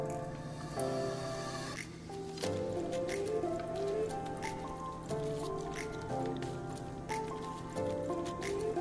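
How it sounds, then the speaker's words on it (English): Thick brigadeiro chocolate mixture being stirred in a pan, with soft wet squishing and sticky dripping sounds repeating irregularly, faint and close, no talk. "Make sure to keep stirring so you won't burn the chocolate."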